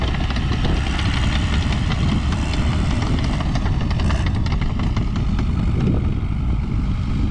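Bulldozer engine dozing down terraces, the throttle eased and feathered: a continuous close diesel rumble with knocking and clatter, held at steady loudness throughout with no talk.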